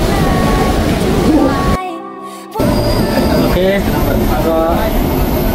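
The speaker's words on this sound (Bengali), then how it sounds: "তো এখানে নিচ দিয়ে আরেকটা ট্রেন যাচ্ছে" A train rumbles past below a fourteen-storey building, a loud steady roar heard from high above that briefly drops away and then returns, with a voice speaking briefly.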